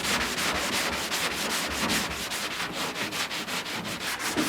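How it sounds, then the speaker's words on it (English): Steady back-and-forth scraping of a sanding block on a custom fender flare, rhythmic strokes continuing evenly throughout with no voices. "get a sanding block and sand it down smooth"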